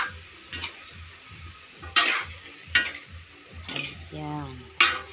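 A utensil scrapes and clicks in an irregular rhythm against a pan of sizzling adobong sitaw with chicken, stirred up close over a low steady frying hiss.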